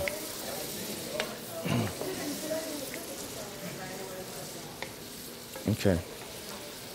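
Onions with green and red peppers sauté in a pan, close sizzling broken by a few scraping stirs, with a voice speaking briefly over the cooking.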